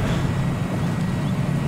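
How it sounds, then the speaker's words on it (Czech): Steady low engine drone from an Object 225 tank in a video game, a turbine-like whine over a deep rumble that holds loud and even throughout. "Motor zní, jak kdyby to mělo turbínu"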